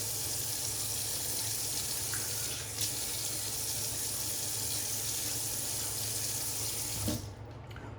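Tap water runs steadily from a faucet into a sink as a face is wetted before a wet shave, a constant close hiss that carries on alone for about seven seconds, then cuts off abruptly near the end.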